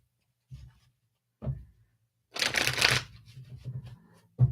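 Tarot cards being shuffled by hand in a few brief riffling bursts, quiet and close, with short pauses between handfuls and a longer rustling run near the middle.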